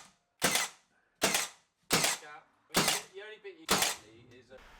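A pin nailer fires into cabinet cladding during a built-in shoe and coat storage build, giving five sharp separate snaps spaced about a second apart, each with a brief ringing tail, close and loud, with no talk.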